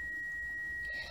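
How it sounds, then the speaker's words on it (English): A washing machine sounds a single steady, high electronic beep that holds for about a second in a quiet room, then cuts off. "Oh, sorry about the beep. That's the washing machine."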